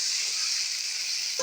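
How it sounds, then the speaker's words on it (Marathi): Potatoes frying in a pan for pav bhaji give off a steady, close sizzle with soft stirring, ending in a brief scrape. "एकदा बटाटे फ्राय करून घेऊया. परतून घेऊया छान."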